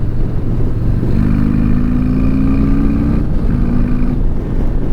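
A 2019 Harley-Davidson CVO Street Glide 117 motorcycle engine rumbles loudly and close on a test ride, its low throb rising in pitch as it accelerates, with heavy wind noise around it.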